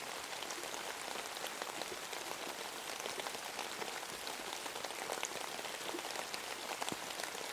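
Steady rain falls on a hard surface in a dense, even patter of drops. The hiss is continuous and moderately soft, with no voices and no change in intensity from start to finish.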